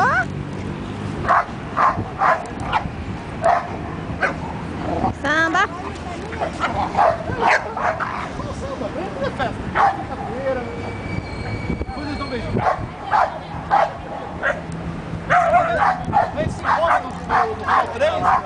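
Border Collies bark repeatedly in loud, irregular bursts, close by, mixed with people talking and a metallic squeal in the background.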